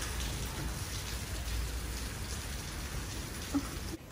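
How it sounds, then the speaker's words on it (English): Steady rain falling, a dense, even hiss of drops pattering on surfaces throughout, close and continuous, ending abruptly. "Now I'm stuck in the rain."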